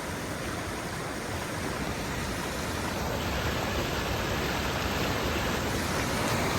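A strong river current rushes over rocks, a steady loud roar of churning water with no pauses, close by and alone, while a tarp slaps around on the rocks somewhere in the wash.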